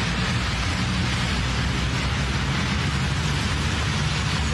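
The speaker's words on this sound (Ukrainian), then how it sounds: "Це пройшов 20-хвилинний дощ." Heavy rain pours down in a downpour that floods the streets of Kyiv, a dense, constant hiss of water hitting surfaces with a low rumbling undertone throughout.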